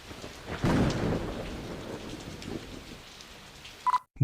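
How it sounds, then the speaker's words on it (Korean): A rainstorm with a deep rolling thunder rumble near the start, followed by a steady, moderately loud rain hiss that fades before a brief pause at the end. "그날도 비가 오던 날이었고"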